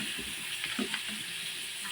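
Fish sizzles and crackles steadily in a little oil on a grill, with a few soft clinks and stirs in between.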